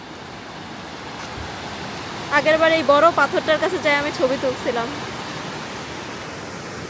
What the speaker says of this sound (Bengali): মানে সরি বৃষ্টির পানিতে হচ্ছে এরকম স্রোত চলে আসছে।